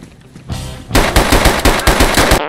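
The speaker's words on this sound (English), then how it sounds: "he shot me with every single bullet" Automatic gunfire in the video game DayZ, a loud close rapid burst of about a dozen evenly spaced shots after a short rising whoosh, with no talking.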